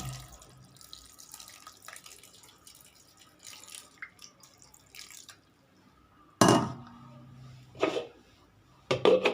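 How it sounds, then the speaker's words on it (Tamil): Water pours and splashes into a mixer jar holding black kavuni rice dosa batter in short bursts, close and loud against a quiet kitchen, followed by faint clinks and drips. "இப்போ வந்து நம்ம தண்ணி ஊற்றிக்கலாம்."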